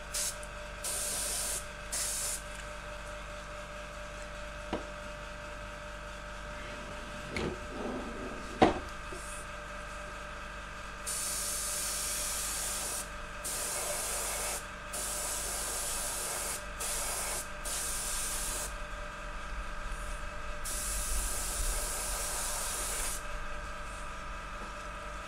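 Air blown over an acrylic paint pour makes repeated bursts of soft, breathy hissing from close by, with short pauses between them and a faint knock midway.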